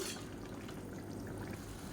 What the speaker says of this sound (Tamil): அடுப்பு வந்து ஆன் பண்ணியிருக்கேன் நல்லா கொதிக்க விட்டுக்கலாம்